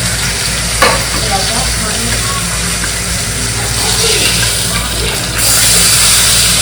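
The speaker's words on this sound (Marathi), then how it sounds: "कमी तेलात इतकी छान फ्राय होतात" Pieces shallow frying crisp in a little oil give a loud, dense, continuous sizzle that swells louder near the end, with a faint voice underneath.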